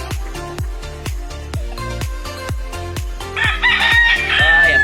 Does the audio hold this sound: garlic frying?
no